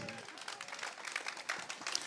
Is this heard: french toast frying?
no